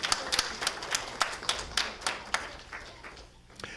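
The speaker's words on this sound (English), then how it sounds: "Let's give them a round of applause." A small audience applauding after a spiritual talk, sparse distinct claps close by, rhythmic and fairly quiet, thinning out toward the end.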